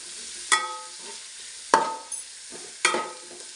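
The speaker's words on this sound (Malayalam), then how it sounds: "സവാള ഒന്ന് വഴന്ന് വരുന്നതിനായിട്ട് നന്നായിട്ട് ഇളക്കി കൊടുക്കുക" Sliced onions sautéing in a pan, stirred with a spoon: three distinct scraping stir strokes over a quiet background sizzle, fairly close and moderate in level, no talking.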